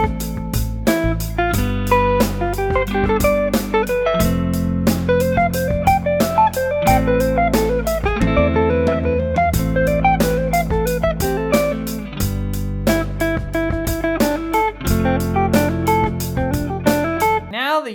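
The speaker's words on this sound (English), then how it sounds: "this is what it would sound like in a solo with a track" An electric guitar plays a melodic solo of quick single notes over a full backing track with bass and drums, loud and continuous with brief breaks between phrases.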